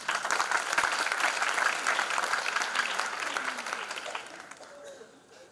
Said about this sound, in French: Nous allons également appeler M. Hubert Dacosta, directeur général de la Texen International SA, sous vos acclamations.